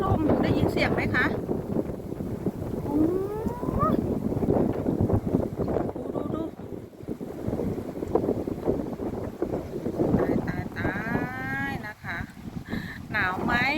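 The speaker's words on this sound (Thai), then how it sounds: "โอ้ยลมนะคะ" Strong wind gusts through a snowfall, roaring across the microphone almost continuously while someone talks over it.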